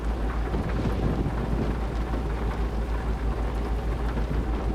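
Continuous rain pouring with low thunder rumbling beneath it, heard during a long car drive; a dense, even wash of sound with no voices.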